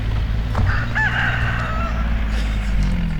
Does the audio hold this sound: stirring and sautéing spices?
no